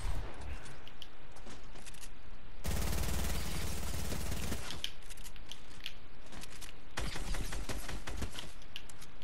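Rapid gunfire from non-primal guns in Fortnite, two long dense bursts of fast repeated shots with quieter clicks and clatter between them.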